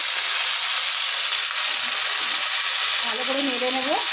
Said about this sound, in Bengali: তেলের মধ্যে দেবো তোমার হচ্ছে পেঁয়াজ আর দেবো রসুন কুচি।